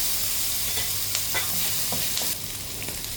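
Chopped onion, garlic and chorizo sizzle steadily in a hot pan as a spatula stirs them with a few scraping strokes; close, continuous frying hiss with no talking.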